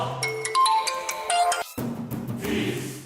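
A phone ringtone plays a bright, rapid electronic melody of stepped tones for about a second and a half, then cuts off abruptly, leaving quiet room sound.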